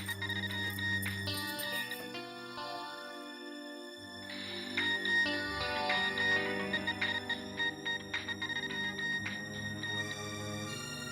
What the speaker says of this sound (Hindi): लगता है आ गया मेरे बीजू का फोन।